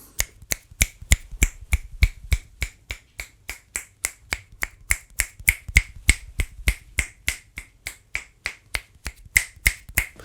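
Finger snapping moved around a microphone for a 360-degree polar pattern test, a long run of crisp, evenly spaced snaps close by, their loudness rising and falling as the position changes.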